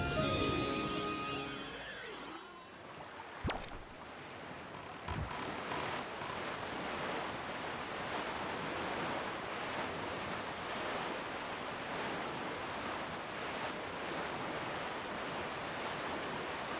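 Boat sailing across ocean waves in The Legend of Zelda: The Wind Waker, a steady broad wash of surf and wind rushing continuously, with a couple of sharp knocks early on and no talk.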